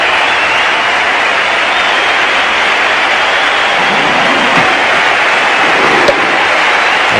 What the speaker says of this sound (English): most of the crowd here giving him the standing ovation